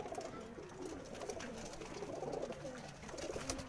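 Pigeons in a flying loft coo in soft, overlapping throaty rolls, several birds calling together at a low, fairly faint level.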